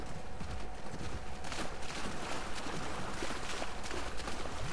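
Horses walking on foot in the video game The Last of Us Part II, a steady patter of hoof clip-clops under dense outdoor ambience, moderately distant.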